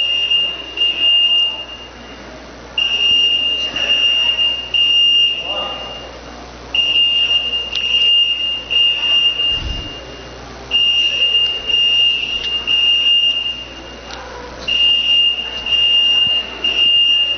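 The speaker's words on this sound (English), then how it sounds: "False alarm." A fire alarm sounds during a lecture, its loud high buzzing tone coming in repeated long blasts separated by short gaps, steady and insistent over faint room noise.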